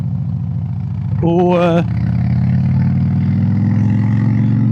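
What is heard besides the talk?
motorcycle engine revving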